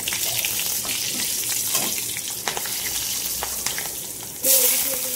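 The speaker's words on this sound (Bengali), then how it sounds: "এবার এখানে কড়াই তেল গরম হচ্ছে, তেলটা গরম হয়ে গিয়েছে। আমি 2টো কাঁচা লঙ্কা দিয়ে দিলাম।" Two green chillies drop into hot oil in a wok, giving a steady close sizzle and crackle with a few sharp pops and a brief louder hiss near the end.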